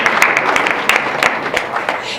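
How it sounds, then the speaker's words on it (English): An audience gives a sustained round of applause for local live performers, with dense clapping and crowd voices mixed in, close and loud throughout. "so let's give them a round of applause."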